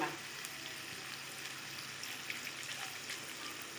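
Pumpkin in hot oil sizzling and spitting after a little water goes into the pan, a steady close crackling hiss with small pops throughout.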